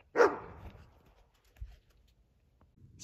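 A wild dog outdoors gives one sharp, loud bark, followed by near silence with a faint thud and soft rustling afterward.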